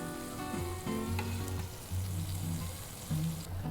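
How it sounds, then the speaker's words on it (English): Hamburger patty topped with softened onions frying in a pan: close, steady sizzling and crackling with faint pulsing bursts, no voices. "I'm gonna let it cook on this side for a few minutes"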